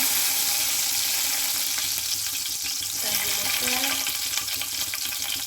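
Local chicken fries in a pan at night with whole cumin and spices, a steady close hiss of sizzling oil with some stirring scrapes partway through.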